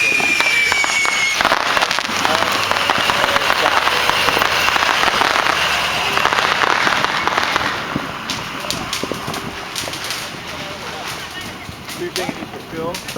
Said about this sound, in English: You like the fireworks?